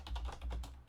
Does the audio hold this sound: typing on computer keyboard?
yes